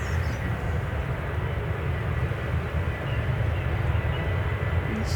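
A Boeing 737-8 airliner roars on departure from Manchester Airport in the early morning, a loud, steady broadband jet rumble that stays heavy and constant throughout.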